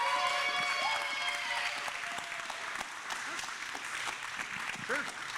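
Convention panel audience at a comic con applauds voice actress Susan Eisenberg, clapping that fades somewhat over the stretch, mixed with some crowd voices and tonal background sounds.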